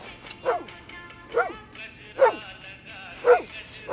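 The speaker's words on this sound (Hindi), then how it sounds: "अरे आज मोती भौंक रहा लगता" A dog barks in sharp single barks, about one a second, repeated five times at a moderate distance, with faint background noise between the barks.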